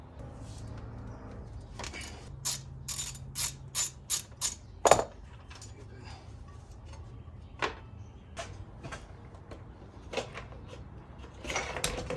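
A ratchet loosens 1/2 inch brake caliper bolts on a 2017 BMW S1000RR motorcycle, giving bursts of sharp, close clicking, a fast run early on, then scattered clicks across a quiet workshop background.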